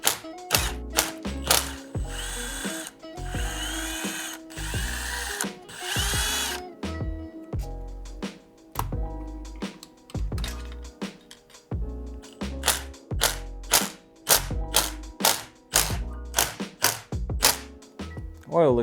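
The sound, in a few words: power tool loosening engine case bolts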